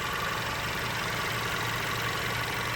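A Mercedes GLC 250 petrol engine idles steadily in its engine bay, a smooth, even hum with a low mechanical drone heard up close and alone throughout.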